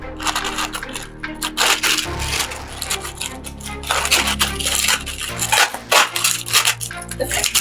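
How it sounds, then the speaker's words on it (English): Sealed package of sewing tools, including a French curve and pattern master, being unwrapped up close, giving steady crinkling, tearing plastic and rustling with clicks and rattles throughout, no talk. "I'm just going to unwrap this now so that we'll see what is inside."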